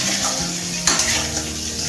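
Potatoes frying in a pan in a home kitchen, a steady close sizzle with a brief clatter of utensil against the pan partway through, no talking.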